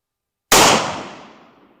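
A single loud, close shot from a Stag Arms Pursuit 6.5 Creedmoor bolt-action rifle, an abrupt blast that decays over about a second with no talking.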